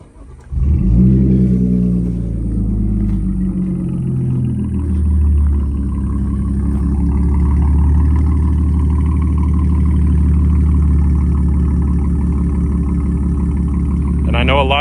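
An Audi with an 034 tune fires up on a warm start, a sharp rev flare settling into a steady, throaty idle that drones on loud and close for over ten seconds.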